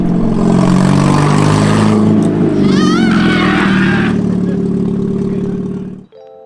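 A turbocharged kart engine revs hard under throttle, a loud, close, sustained roar with a brief rising whine, then cuts off abruptly at the end; a voice is faintly heard underneath.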